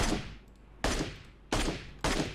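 M24 sniper rifle fire in PUBG Mobile: four loud, sharp shots at uneven intervals, each decaying briefly before the next, with no talk.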